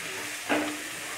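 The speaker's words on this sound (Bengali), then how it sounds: "এক দেড় মিনিট আমি মশলাটাকে একটু কষিয়ে নেব।" Spices sautéing in a pan for a Bengali egg curry: a soft steady sizzle with a brief stir or scrape in the middle, close and continuous, no talk.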